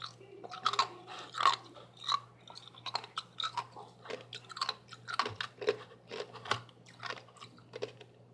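Thick chunks of ice chewed and crunched close to the mouth, a steady run of sharp, crackling bites and grinding chews repeating through the whole stretch with no talking.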